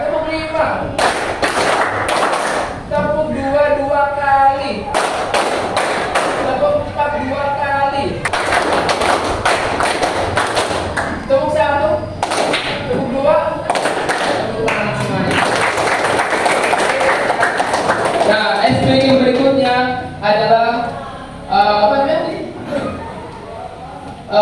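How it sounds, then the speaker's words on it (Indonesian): Children in a classroom clap their hands in counted bursts of sharp, closely spaced claps, with an adult voice speaking between the groups. "Tepuk 5 berarti 5 kali."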